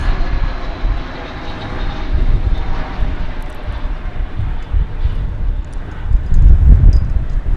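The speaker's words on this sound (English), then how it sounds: "We have Volaris arriving here. It's an Airbus A321 coming in from Guadalajara in Mexico." A Volaris Airbus A321 arriving at DFW Airport from Guadalajara, a steady jet engine roar with deep rumble that swells louder toward the end, heard alone without talk.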